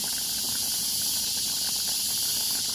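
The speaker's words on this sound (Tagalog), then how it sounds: "Kumukulo na siya." A steady, bright hiss of a pot of rice boiling and steaming continues without pause, close and even, with faint bubbling underneath and no voices.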